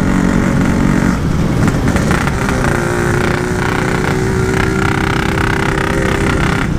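A Yamaha RX King motorcycle with a modified exhaust and a damaged membrane reed runs loud and close, its engine holding a steady, rough, buzzing drone with slight rises in revs throughout.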